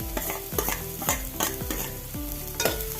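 Sliced onion and grated coconut being stirred in a hot pan for ivy gourd thoran: repeated quick scraping strokes of a spatula over a light fry sizzle, close up, with no voices.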